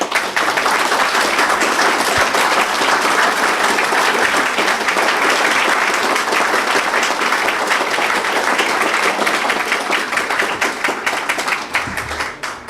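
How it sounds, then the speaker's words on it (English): At a Memorial Day military ceremony, a crowd gives fallen veterans a loud, sustained round of applause, dense clapping from many hands that holds strong for several seconds and then tapers off near the end. "leave them today with a rousing round of applause"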